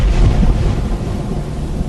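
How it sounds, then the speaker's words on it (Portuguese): A heavy thunderstorm over Egypt, with lightning and hail falling: a loud, continuous low thunder rumble with rain-like noise, close and steady throughout, with no voices. "mandou trovões, raios e chuva de pedra sobre o país"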